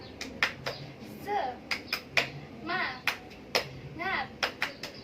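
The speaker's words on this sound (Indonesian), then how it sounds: "kita tepuk semangat dulu yuk" A teacher and a class of children perform the "tepuk semangat" clapping chant in a microteaching lesson: sharp, rhythmic clusters of hand claps, close by, broken up by chanted children's and adult voices.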